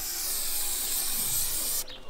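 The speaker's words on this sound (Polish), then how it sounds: "Mogę coś sprayem zrobić na drzwiach z boku?" A spray can hisses continuously while a tag is painted on a car door in a video game, loud and close, stopping sharply near the end.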